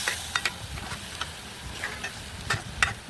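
Hilsa fish cooking down in a pan, with a soft steady sizzle and a few sharp scrapes and clicks as it gets stirred and turned.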